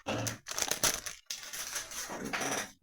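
Thin plastic wrapping crinkles and crunches in close, loud bursts as it is pulled off a Warhammer Age of Sigmar Stormbringer magazine, with brief pauses between handfuls and no talking.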